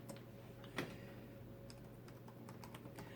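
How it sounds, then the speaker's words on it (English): Soft, rapid keystrokes as a password is typed on a Dell Latitude CPx laptop keyboard, quiet clicks over a steady electrical hum. "press the Tab key and type the password"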